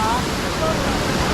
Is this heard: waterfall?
yes